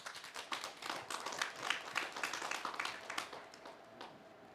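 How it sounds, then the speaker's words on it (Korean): Applause from a conference audience at a drone film festival event, a steady wash of many hands clapping at moderate, slightly distant level, with a faint voice underneath. "여러분 큰 박수로 맞이해 주시기 바랍니다"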